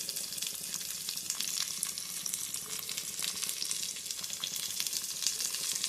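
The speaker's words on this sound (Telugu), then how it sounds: "ఆనియన్స్ వేసి కొంచెం బ్రౌన్ అయ్యేదాకా కలుపుకొని ఉండండి." Onions frying and being stirred toward brown in a clay pot for a gongura egg curry, a steady bright crackling sizzle with light scrapes, continuous and close, without speech.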